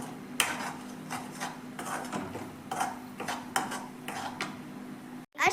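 Onion-garlic chutney is stirred quickly in a pan, with a steady run of close scraping and clinking strokes of a utensil against the pan over a constant background hum.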